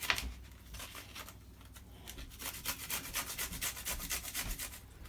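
Fresh ginger is rubbed against a grater in quick, steady rasping strokes that grow more rhythmic, close and quiet, with no talking.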